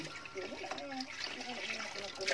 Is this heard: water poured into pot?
yes